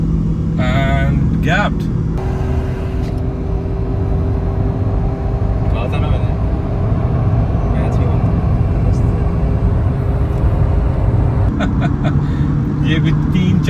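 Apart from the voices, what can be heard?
Haval Jolion HEV and Nissan Note e-Power drag race launch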